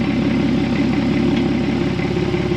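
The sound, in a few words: Porsche Cayman S 987.2 engine idling with sports exhaust open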